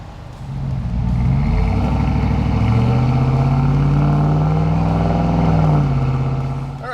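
A truck pulling away on a test drive after a brake job, a loud steady engine hum rising and holding as it accelerates, heard from inside the cab with windows down.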